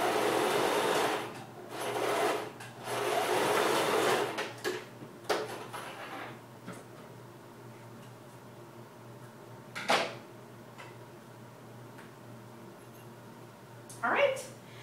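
A sewing machine stitches down the corner of a fabric shoulder bag in a short whirring run, followed by quieter handling clicks and a few brief knocks as a person speaks.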